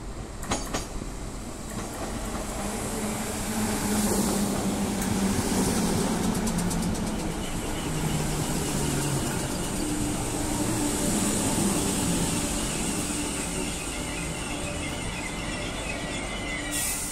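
Passenger train rolling along the rails, a loud continuous rumble with rhythmic wheel clatter and faint squealing tones, heard from inside the carriage without talk.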